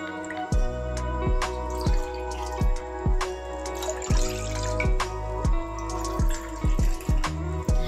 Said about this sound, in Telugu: ఈ glass మెజర్మెంట్తో 3 glasses of water add చేస్తున్నాను